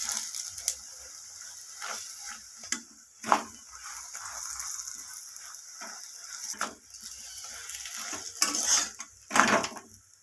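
Metal spoon scraping and clanking against a pan while a paratha fries, with several sharp clatters and a faint sizzle underneath; no talking.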